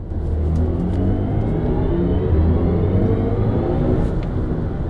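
A steady synthetic whirring hum swells with acceleration inside a BMW i4 M50 electric car in sport boost mode, a smooth engine-like drone with a low rumbling undertone, no voices.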